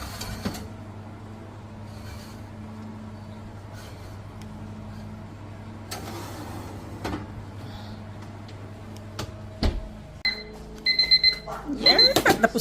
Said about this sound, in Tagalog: Tumunog ang alarm, guys.